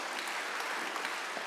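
Church congregation applauding during a worship service, a dense, even wash of many hands clapping at once, steady and moderately loud across the whole stretch with no voices standing out.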